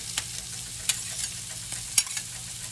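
Sweet potato hash frying in a skillet gives a low, steady sizzle with a few sharp stirring scrapes and clicks spaced through it, close and fairly quiet, no talking.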